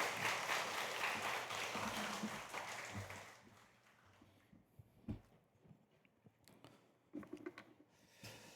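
A church congregation at a Wednesday Bible academy claps to welcome a preacher: a dense, loud burst of applause that fades after about three seconds, leaving scattered quieter sounds.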